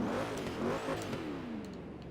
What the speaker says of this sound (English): It sounds like the most suppressed Chevrolet-based V8 in the entire game